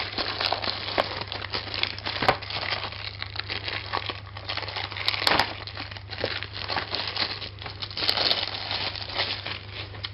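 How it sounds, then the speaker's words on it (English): Crinkly cellophane wrapping being crumpled and torn off a Matchbox 1:72 NATO paratroop toy soldier box, a steady close rustle with sharper crackling bursts throughout, alone with no talk. "We'll get the cellophane off here."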